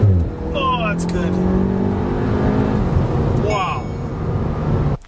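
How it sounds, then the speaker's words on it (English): Volkswagen Golf R pulling from a full stop at full throttle, the engine note climbing steadily through gears with audible shifts, heard from inside the car, loud and continuous. "I'm just going to give a full throttle pull here."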